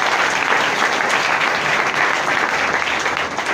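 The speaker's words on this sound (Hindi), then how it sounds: "उनके लिए भी तालियां।" An audience in Saran applauds in a dense, loud burst of clapping that holds steady for a few seconds, with no talking over it.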